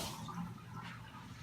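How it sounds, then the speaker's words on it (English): Tap water running steadily as hands are rinsed at a kitchen sink during pork taco preparation, a continuous close splashing flow with no talking. "go ahead and rinse your hands"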